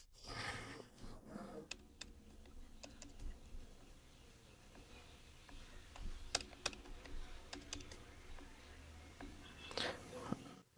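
Someone types details into an online checkout form on a computer keyboard, producing soft, scattered key taps with a few sharper clicks. The taps are quiet and fairly close, over a low background hum.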